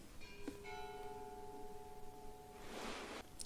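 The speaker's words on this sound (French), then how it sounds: "Vous entendez les cloches?" Faint church bells at the Château de Châteaugiron ring with sustained tonal strikes over a hissy background, a brighter noisy burst near the end.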